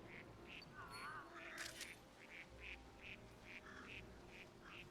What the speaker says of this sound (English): Something's quacking.